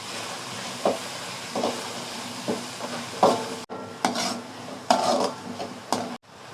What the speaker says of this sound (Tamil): தனி மிளகாய் சேர்த்து கிண்டி விட்டுக்கலாம் ஃப்ரெண்ட்ஸ்.